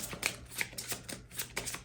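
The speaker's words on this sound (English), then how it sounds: "I'm going to shuffle." Tarot cards are shuffled in a run of quick, crisp riffling bursts, about six in under two seconds, close up, with a faint low hum beneath and no talk.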